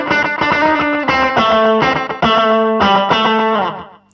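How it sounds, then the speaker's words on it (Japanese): Distorted electric guitar chords struck in a choppy rhythm through a slapback echo effect on a BOSS GT-1 or ZOOM G1 FOUR multi-effects unit, each hit trailed by a quick, short repeating echo, loud and upfront. "スラップバックエコー"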